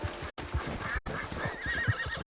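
A horse in the video game Red Dead Redemption 2 whinnies and neighs loudly and up close, its calls broken by a few brief silences, with faint hoof-like thumps underneath.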